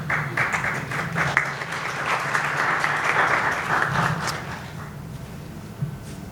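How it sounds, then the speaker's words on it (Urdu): Audience applause at a public assembly in Pakistan, a broad sustained wash of clapping that rises, holds for several seconds and fades away toward the end, with a voice faintly underneath. "اگر تالیاں مارنیاں نے تو اچھے طریقے نہ مارنیاں نے"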